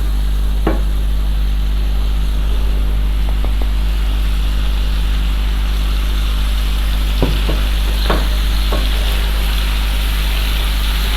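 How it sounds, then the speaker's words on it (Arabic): Shrimp frying in a pan with curry gives a steady, dense sizzle throughout, close and fairly loud, with a few sharper pops and crackles near the start and toward the end. "بنحمر الجمبري"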